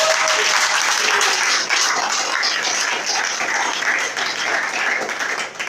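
A church congregation applauds and cheers at a worship service in Cocody, a dense, steady wash of many hands clapping throughout, loud and close, with voices mixed in.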